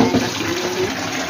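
Water pours steadily into a deep round bowl to wash okra in a home kitchen, a broad continuous rush of liquid heard close and alone.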